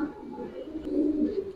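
A pigeon coos softly in a loft, low rolling calls rising slightly toward the end, close by and alone.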